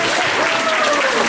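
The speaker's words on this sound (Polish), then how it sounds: "to brawo dla pani Aliny" Applause at a harvest festival gathering at a Jesuit centre in Chicago, a steady dense patter of many hands held at an even loud level, with a faint tonal voice or whistle drifting above it.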